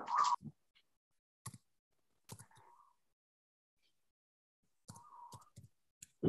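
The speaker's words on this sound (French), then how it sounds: "Maintenant, on clique sur d'accord." Sparse mouse clicks while using a crypto app, single sharp clicks spaced irregularly with short gaps of silence, close and fairly quiet.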